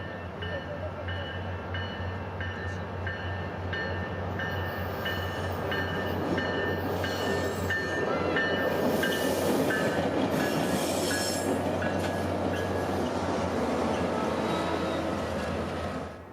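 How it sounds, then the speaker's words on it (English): SunRail passenger trains meet at an Orlando station, rumbling and clattering through with a steady engine drone, wheel noise and squeal building as the cars pass close by. "Sunrail train P323 meets northbound P320 at the station"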